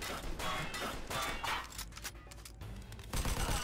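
Grease gun submachine gun firing in Mafia 2, a loud, dense run of rapid automatic bursts with little pause, sharpest near the start and again at the end.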